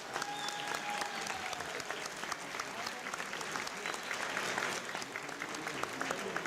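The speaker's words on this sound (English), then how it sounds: "So please give him a round of applause." An audience applauding for Inspector Eric Rodriguez at a community legislative breakfast, sustained dense clapping from a crowd in a room, steady throughout.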